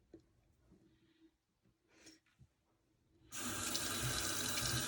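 Water running from a tap into a sink while eyeshadow is washed off, quiet handling and small movements at first, then the tap opens into a loud, steady splashing stream that continues to the end.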